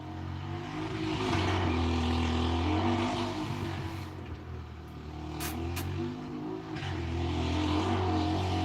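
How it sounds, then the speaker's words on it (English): Four-wheeler ATVs ride up and down a hill road, their engines droning steadily at a distance and rising and falling in pitch as riders accelerate and turn, with no talking. "these aren't motorcycles. These are 4-wheelers. And this is constant."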